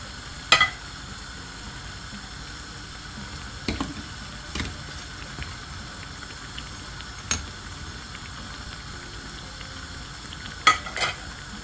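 Akara bean fritters fry in hot oil, a constant bubbling sizzle heard close up, broken by a handful of sharp clanks and stirring knocks from a utensil against the pan.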